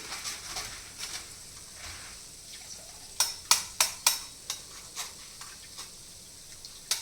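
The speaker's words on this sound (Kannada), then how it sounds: "ಸ್ವಲ್ಪ ಹುರ್ಗಡ್ಲೆ ಬಿಸಿ ಮಾಡ್ಕೊತೀನಿ." Roasted gram heated and stirred in a pan for green dry mandakki, a quiet bed of light sizzle broken by a run of sharp, rhythmic scraping clicks from the spatula, close and fairly soft.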